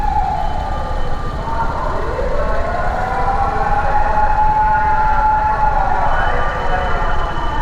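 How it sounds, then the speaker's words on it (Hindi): A fire truck siren in the streets of Osaka wails in loud, rising and falling sweeps, close by and dominating the street noise. "ये है अग्निशमन गाड़ियाँ, फायर ट्रक, फायर ब्रिगेड।"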